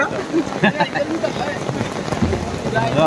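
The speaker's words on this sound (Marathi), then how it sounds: "पाऊस जोरात चालू झाला" Heavy rain pours steadily during an outdoor Govinda troupe practice session in Konkan Nagar, a dense continuous wash of drops, with voices talking over it.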